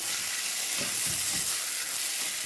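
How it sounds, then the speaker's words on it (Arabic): Puffed raisins being stir-fried with rice in a hot pan, giving a loud, steady sizzle close up. Faint stirring shuffles run beneath it. "بص هشوح بقى كده الزبيب مع الرز"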